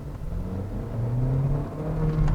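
A 2010 Kia Forte Koup with its 2.4-liter engine accelerating, a steady mid-pitched hum rising gradually in pitch and loudness from inside the car, with no voices.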